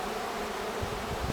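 Honeybees buzz at a hive during a spring inspection, a steady dense hum close by, with low rumbling thumps toward the end.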